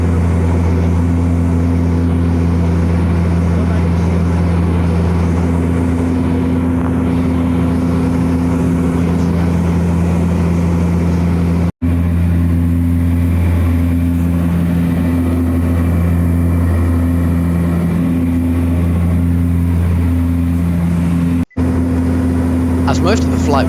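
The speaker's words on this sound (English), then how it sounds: "the raw sounds that the Pratt & Whitney Canada PT6A34 turboprop engines make" Cabin drone of a Loganair de Havilland Twin Otter in cloudy flight, its twin Pratt & Whitney Canada PT6A-34 turboprops giving a loud, constant low hum with steady propeller tones throughout, alone without talk.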